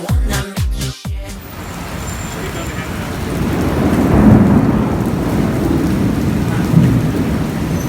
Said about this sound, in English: This is the actual thunderstorm.